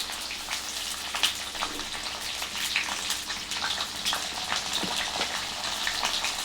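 Curry leaves sizzle and crackle in hot oil while mango pulihora is being made, a steady bright hiss with scattered sharp pops throughout, close and alone.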